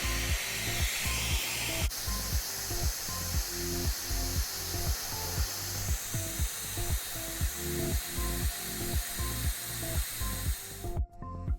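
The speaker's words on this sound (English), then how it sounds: "Use a hairdryer to gently warm the display surface for easier removal." A steady motorized whir from a hair dryer warming an Apple Watch Series 8 display runs throughout, pulsing in a regular rapid rhythm close-up, then cuts off at the end.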